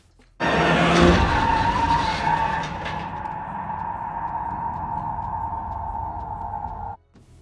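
Car skidding with a long, loud tire squeal, a sustained screech holding steady for several seconds after a sharp onset, then cutting off abruptly, from a scene in the film M3gan.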